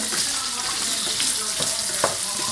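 Shrimp frying in butter in a pan on high heat give a dense, steady sizzle with occasional crackles and stirring sounds, close and continuous throughout.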